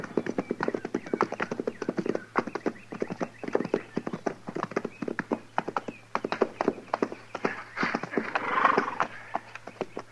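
Horses trotting in an old-time Western radio drama, a brisk, continuous clip-clop of hooves at moderate distance with no voices over it.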